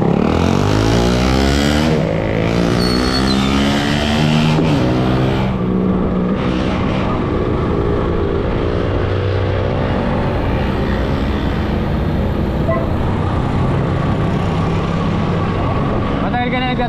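Steady engine drone and road noise from a motorcycle-powered tricycle moving through city traffic in the Philippines, continuous and fairly loud throughout, with passing vehicles around it.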